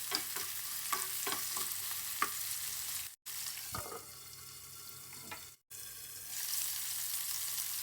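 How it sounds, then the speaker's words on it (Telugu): Onions frying with salt as the base for paneer butter masala gravy, a close sizzle with stirring taps early on, broken by two abrupt drops to silence, then a softer hiss that rises again at the end. "మనం ముందుగా గ్రేవీ కోసం ఈ ఆనియన్స్ని వేయించేద్దాము."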